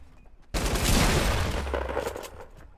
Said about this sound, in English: There's someone shooting outside.